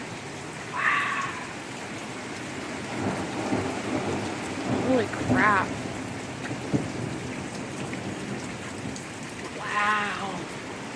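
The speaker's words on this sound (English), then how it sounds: "That's some deep thunder. Deep claps of them." A thunderstorm with heavy rain and deep thunder, steady rain hissing throughout while low rumbling claps roll in. Someone speaks briefly over the storm.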